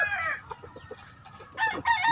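Chickens at a poultry yard make a quick run of short clucks, then louder, strained calls, all close by with no talking.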